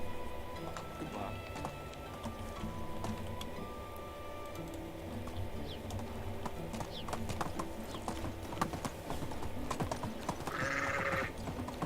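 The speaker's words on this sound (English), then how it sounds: "that's the gross sound that the sheep make. Sounds like they're vomiting" Sheep in the video game Medieval Dynasty give a short, coarse, retching bleat near the end, over steady ambient game sounds with clopping hooves.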